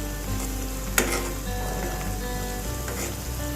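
Eggs fry steadily in a hot pan with a continuous close sizzle, and one brief louder clatter marks the eggs being turned over.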